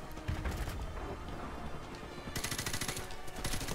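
Rapid bursts of automatic gunfire in Call of Duty: Modern Warfare Remastered, a dense, continuous clatter of shots with a sharper, brighter volley near the end, set against steady background game noise.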